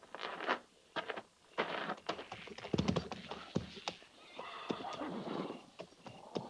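Cavalry horses whinny and snort while hooves clip-clop irregularly nearby, with several animals shifting and stamping on hard ground in winter.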